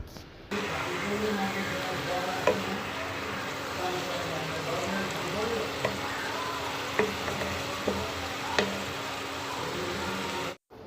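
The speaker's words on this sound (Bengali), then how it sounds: "এটা একটু বড়ি ভাজা করে নিচ্ছি" Sun-dried lentil dumplings (bori) fry in hot oil in a home kitchen, giving a steady, close sizzle with scattered pops and crackles that lasts the whole time, while low voices murmur underneath.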